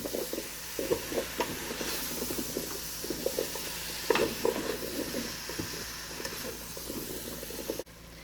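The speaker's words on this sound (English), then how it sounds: "we're just going to let that squash cook for a few minutes" Summer squash with thyme cooking in a Ninja Speedi, giving a steady low hiss and bubbling simmer with soft irregular crackles throughout, moderately close and without talk.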